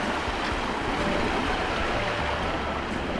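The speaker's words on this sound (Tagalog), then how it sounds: "kusog pud kayo nagbulog iyang tubig nya lawom iyang ubos" Strong, deep spring water at Bitian Spring rushes in a steady, loud broadband roar that fills the whole stretch with no pauses and no voices.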